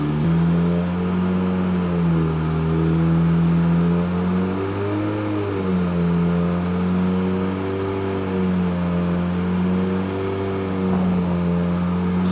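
A 2017 Suzuki GSX-R1000 engine runs hard on a dyno, giving a loud, steady mechanical drone whose pitch sags and recovers a few times as the throttle is worked. No talking is heard.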